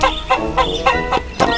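A chicken in the video game Dude Simulator clucks in a quick series of sharp, repeated calls, loud and close with no talk over them.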